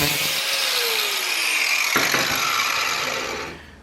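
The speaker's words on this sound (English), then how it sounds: "You need a 4-inch grinder with a little cut-off wheel." A 4-inch angle grinder with a cut-off wheel cuts through a steel railroad spike, a loud, close, sustained high whine whose pitch shifts midway and then fades as the wheel spins down.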